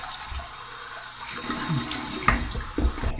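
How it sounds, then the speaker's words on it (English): Cold water rinse at a bathroom sink after a shave, with quiet running and splashing water that grows busier midway, including a few sharper splashes, heard close up with no talking. "here's my cold water rinse"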